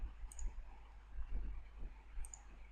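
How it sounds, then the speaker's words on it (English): Mouse clicks on a file: two short, sharp, faint clicks about two seconds apart over a low steady hum. "if I double click on this file"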